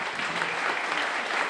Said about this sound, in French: Oui, certainement, on peut les applaudir.